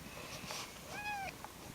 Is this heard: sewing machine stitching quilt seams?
no